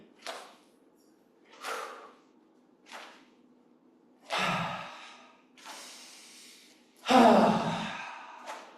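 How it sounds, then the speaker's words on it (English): Deep, slow breaths during qigong practice: six or so distinct inhales and exhales, close and clear, with the last few fuller and heavier, and no talking between them. "Breathing deeply."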